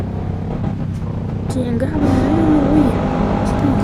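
A car driving along with a steady engine drone and road rumble, while people talk inside the vehicle over it.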